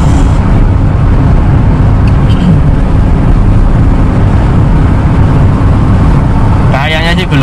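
Car cruising in fourth gear at 60 km/h and about 2100 rpm on a ring road, a steady close engine and road drone throughout, with a brief higher-pitched whine near the end.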